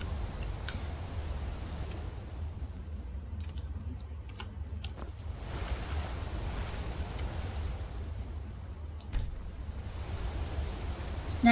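Water waves lapping in Skyrim Special Edition make a steady, even wash of soft surf noise that holds at a constant level, with a few faint clicks scattered through it and no voices.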